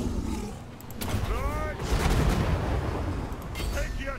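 Dwarf artillery bombards an enemy in a Warhammer campaign: several heavy booming blasts over a rumbling battle din, with a voice talking faintly underneath.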